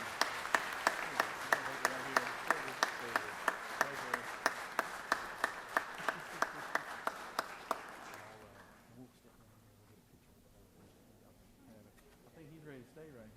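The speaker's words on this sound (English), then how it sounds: "Let's give this lovely family a round of applause" Steady, regular clapping from an audience in the Georgia Senate chamber, loud and rhythmic for about eight seconds before fading out, followed by faint room murmur.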